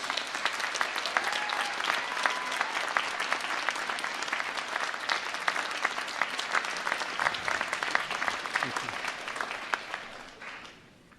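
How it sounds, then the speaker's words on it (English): A large graduation-ceremony audience bursts into sustained, dense applause that holds steady for several seconds, then fades toward the end, with no speech over it. "Could you all give that support network a huge round of applause?"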